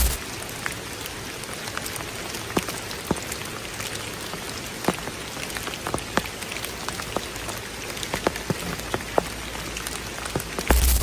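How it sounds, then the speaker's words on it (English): Steady rain falls throughout a flooded forest, a dense constant hiss with scattered sharper drops pattering close by on nearby surfaces, with no voices present. "A woman is camping alone deep in a flooded forest where the rain never stops."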